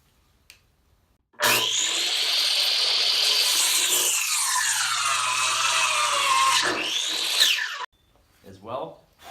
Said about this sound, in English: this is how you make a 45-degree bevel cut